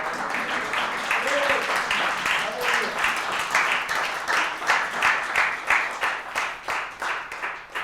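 A church congregation claps together, loud rhythmic clapping that becomes steady regular beats, with voices mixed in.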